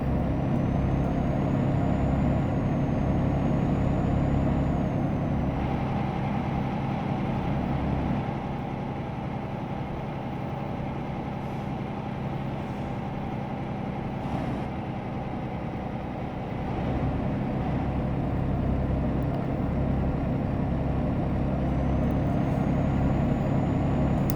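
A DAF XD truck engine in Euro Truck Simulator 2 drones steadily as it revs up toward 2000 RPM while rolling downhill, a loud, continuous low rumble with a slight dip in level partway through.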